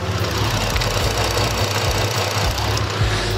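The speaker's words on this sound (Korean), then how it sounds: "영상으로 엔진 소음 한번 담아보도록 하겠습니다." A large SUV's gasoline/LPG bi-fuel engine idles with the hood open, a steady low, even hum with a faint rhythmic pulse, close and continuous with no other sounds.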